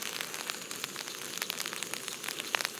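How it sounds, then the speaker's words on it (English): Rain falling on a wild camp in Lochaber at sunset, a dense steady patter of drops with scattered sharper taps, close and continuous with no voices. "as you can hear, the rain's on"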